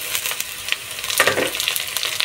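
Chopped tomato added to browned onions frying in a pan, a steady close sizzle with light stirring scrapes, no voices over it.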